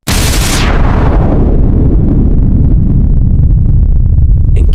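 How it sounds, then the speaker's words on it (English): Big explosion sound effect: a sudden, very loud blast followed by a long, heavy rumbling roar that sustains for several seconds without fading much, with no voices. "Then a big explosion occurred"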